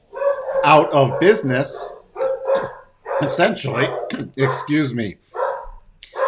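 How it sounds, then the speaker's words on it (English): Dogs bark in the background of a home on Halloween while someone talks over them almost constantly, the barks brief and mixed under his speech. "Sorry about the dogs in the background."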